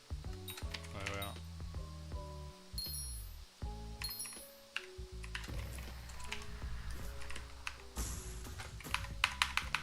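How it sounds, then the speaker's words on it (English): Rapid clicking keystrokes on a faulty computer keyboard, close and busy, run throughout alongside layered tonal game sounds from Hypixel Skyblock play. "my keyboard's not functioning properly again"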